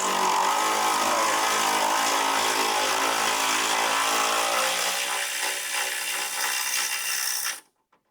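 A power tool, likely an impact wrench, runs steadily for about seven seconds while loosening an 18 mm bolt on the rear axle of a 2008 Ford Mustang, then cuts off abruptly.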